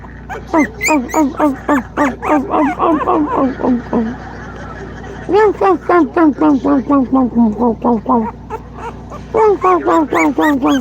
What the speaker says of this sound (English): I'm going to show you one of the puppies.